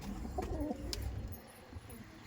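Giribaj pigeons give a brief, low, throaty coo early on, followed by quieter rustling.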